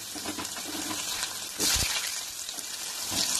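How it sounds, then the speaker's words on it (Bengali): Potatoes frying in hot oil in a pan on a gas stove, a steady soft sizzle and hiss with a brief louder crackle midway, close and alone. "যে তেলটা আছে ওই তেলের মধ্যে আমি আলুগুলো দিয়ে সুন্দর করে ভেজে নেব"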